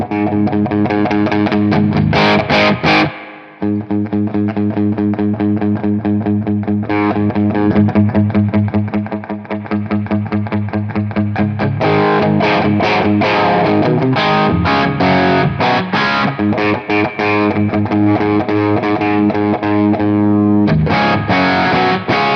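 An electric guitar plays through the mid-gain channel of a Tech 21 Trademark 60 amp. It sounds crunchy and distorted, with loud chords and riffs strummed continuously for over twenty seconds, brief pauses between phrases, and no voice.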